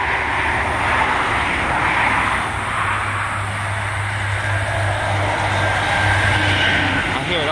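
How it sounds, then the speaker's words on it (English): Heavy road traffic with trucks rumbles past with a deep engine drone and a low steady hum, a large truck sweeping by close and loud. "Oh, another truck."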